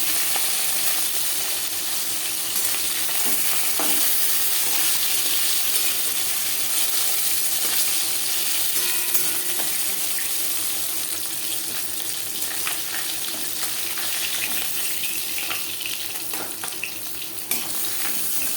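Rohu fish pieces fry in hot oil, a steady, dense sizzle that crackles continuously and close by, with no voices.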